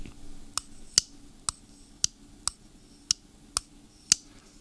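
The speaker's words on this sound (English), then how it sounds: "anytime you flip it out, you're going to hear that detent pop, and it's nice and crisp." An Oknife Freeze 3 folding knife is flipped open and shut over and over, giving a series of about eight crisp, sharp detent clicks and pops, close and isolated over a quiet background.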